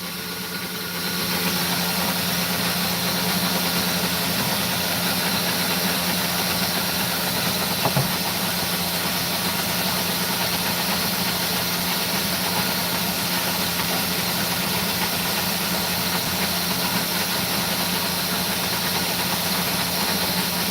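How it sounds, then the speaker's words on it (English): A grinding wheel cutting opal makes a loud, steady whirring drone that runs unbroken throughout, with one brief tick partway through. "to the sound of grinding"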